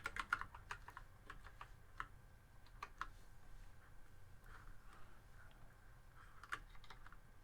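Quiet irregular clicking of computer keyboard keys as commands are typed, with short bursts of keystrokes and pauses in a calm room.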